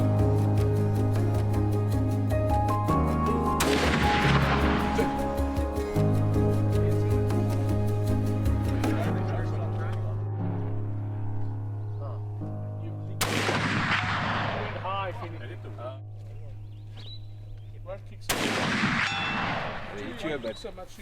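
Gunfire just outside the suburbs in the Eastern Cape, three sharp loud reports, each ringing out in a long decaying echo, heard over a steady background hum with no talking.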